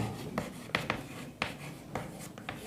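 Chalk or a pen writes on a board during a maths lesson, making quick short scratchy strokes in an irregular rhythm, close and fairly quiet with no talk.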